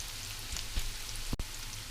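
Chopped onions frying in a pan over medium heat, a steady close sizzle with faint spatters and a couple of soft stirring knocks, no voices.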